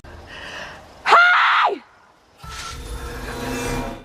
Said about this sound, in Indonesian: Karena teriakan tersebut